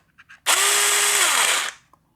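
A cordless power drill running on a DIY universal lithium-ion battery whirs up in one loud burst of about a second, then spins down, with brief clicks before and after.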